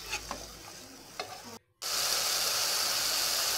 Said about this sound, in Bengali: ভালোভাবে কষিয়ে নেবেন